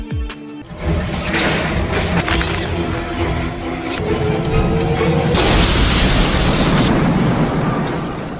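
An overheating machine explodes in a loud, sustained blast that roars and rumbles, with crashing debris and a dense wash of noise that continues for several seconds.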